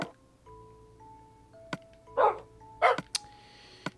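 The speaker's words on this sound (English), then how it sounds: "we have a tiny, tiny little doggy now" In Minecraft, a small dog gives a couple of short, close barks amid sparse game tones, soft clicks and quiet ambient hum.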